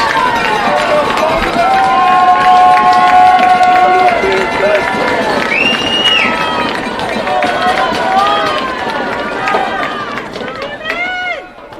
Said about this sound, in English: Crowd making some noise